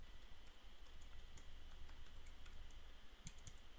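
Quiet computer keyboard typing as a test card number is entered, a run of light, close, irregular key clicks with a small cluster of quicker taps near the end.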